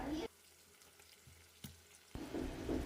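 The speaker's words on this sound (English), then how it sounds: "now start adding the fishes and start frying it for around 5 to 10 minutes" Fish fry in a pan with onion, a crackling sizzle that is loud at the start, drops to a faint hiss in the middle with a sharp clink, then comes back strong with stirring noises.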